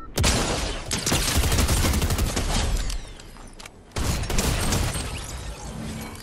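Rapid bursts of gunfire from a Fortnite match crackle loudly and almost continuously, with a brief lull before a second sustained volley resumes.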